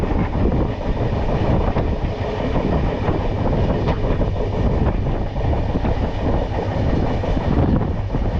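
Tamralipta Express running from Howrah to Digha: a loud, steady rumble of the train with continuous wheel clatter throughout, and no voices.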